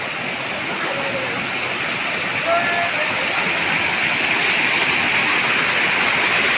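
River water rushes steadily in a continuous broadband wash close by, loud and unbroken throughout, with faint voices of people playing at the riverside mixed in.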